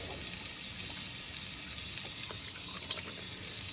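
Tap water runs into a bathroom sink during a wet shave, a constant close hiss and splash that stays level throughout.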